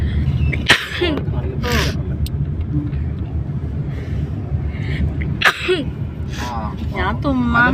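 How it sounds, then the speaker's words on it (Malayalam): A person sneezes outdoors on a dusty trip in Kannur, several sharp sneezes spread across the clip, loud and close, with a low rumble of traffic behind. "പുറത്തല്ലേ പൊടി തുമ്മലായിരിക്കും."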